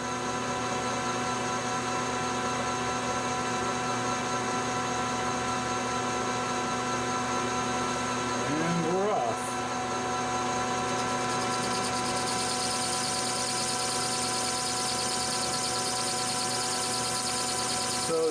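A metal cutting machine takes a heavier 50-thousandths cut in titanium using a steel chip breaker, with a steady mechanical hum and whine, a brief rising squeal midway and a brighter high-pitched tone afterward.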